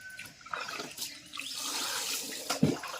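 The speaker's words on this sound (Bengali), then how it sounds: "তোমরা দেখতে থাকো আমি স্নান করছি" Water runs steadily as someone bathes, a broad, close wash of splashing and flow with a brief louder splash near the end.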